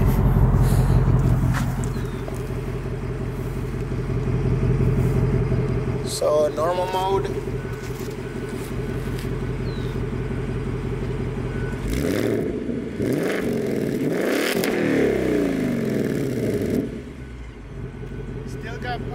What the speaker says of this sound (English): I'm gonna rev it, we're gonna hear how it sounds.